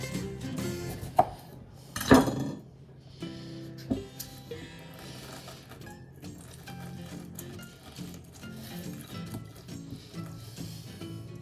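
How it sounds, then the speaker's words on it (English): A knife slices through a lime on a cutting board, giving a few sharp chopping knocks near the start among light kitchen clatter, with no talking. "Usually it's more with 1 lime, so I'm gonna cut that one."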